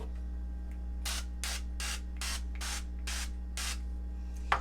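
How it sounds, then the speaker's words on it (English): Seven quick hissing bursts of canola oil cooking spray at an even rhythm, close by, over a steady low electrical hum. "that's just some canola spray"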